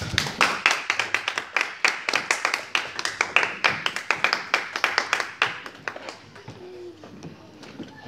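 A church congregation claps together during a worship service, a dense run of rhythmic hand claps that fades out toward the end.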